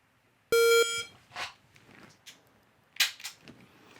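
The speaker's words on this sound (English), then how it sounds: "wait for the beep" A loud electronic shot timer beep sounds once, followed by a few scattered clicks and soft clatter nearby.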